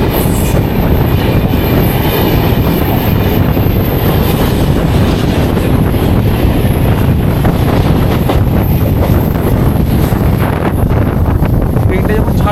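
Howrah–Yesvantpur Duronto Express at a station, a loud continuous rumble of rail wagons and wheels close by, with wheel squeal and wind buffeting the microphone; voices talk under the noise.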